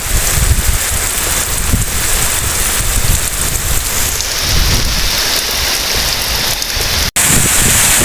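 Heavy rain pounds down steadily in a storm with strong wind, a dense, loud roar that continues unbroken apart from a momentary dropout near the end.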